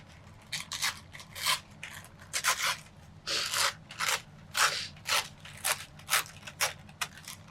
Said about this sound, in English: I'm gonna rip this really close to